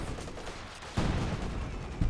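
Rapid flak half-track autocannon fire in Company of Heroes 2 pounds away at infantry conscripts, a dense rattling burst of repeated shots with a sharp louder volley near the middle and another at the end, mixed with battlefield noise.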